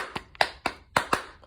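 Sharp hand claps called out to get a class's attention, about five crisp slaps in a loose, uneven rhythm, close and clear with no voices.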